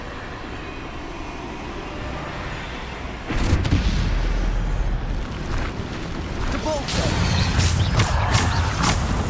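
Bombarda blasting spell from the Hogwarts Legacy video game, a sudden booming crash partway through followed by rumbling debris and several further sharp impacts over a steady background hum.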